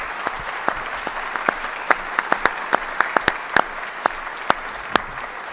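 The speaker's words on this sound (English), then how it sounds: "I'd like to start by just giving a nice round of applause to our panel tonight." Scattered, sparse clapping from an audience thanking a panel at the close of an evening narcotics-impact presentation, individual claps popping out distinctly at an uneven rhythm, fairly close and moderately loud with no talking over it.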